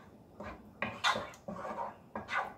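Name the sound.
stirring penne vodka sauce in a pot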